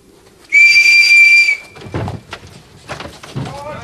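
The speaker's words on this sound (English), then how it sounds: "I'm just going to blow my whistle" A sharp whistle blast lasting about a second rings out close and loud, followed by thumps and knocks as people stir and begin talking.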